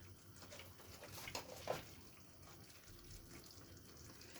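Water is poured into a simmering chili garlic shrimp dish, a soft, steady splashing trickle that peaks briefly and then fades to a low hiss, with no talking.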